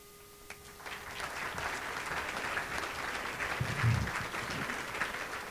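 Sustained applause from an audience at an art museum reopening gala, a dense steady patter of clapping that holds at an even level throughout.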